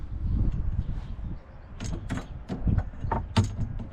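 Metal parts of a jin pole being fitted onto a mast-raising jig for a Hunter 23 sailboat, giving close clanks, knocks and scraping clicks in a loose, irregular series.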